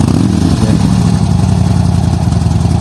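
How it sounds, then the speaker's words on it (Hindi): A Harley-Davidson V-twin motorcycle engine idles close by, a loud, steady low rumble with an uneven, lumpy pulse. "ये आवाज कुछ आप सुन सकते हैं हार्ले की।"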